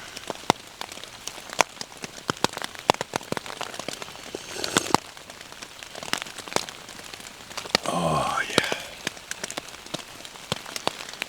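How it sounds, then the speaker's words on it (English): Rain patters steadily on a tent during a wet morning camp near Obersalzberg, with dense close drops and sharp taps, a brief crinkle of fabric midway and a short spoken remark. "I'm just waiting that there comes like a small pause in this rain"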